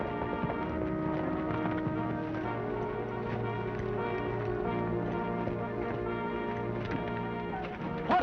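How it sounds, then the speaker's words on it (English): Horses pulling a stagecoach, their hooves clip-clopping steadily and fairly close, with the rumble of the moving coach beneath and no talk over it. "Pull up them horses, driver."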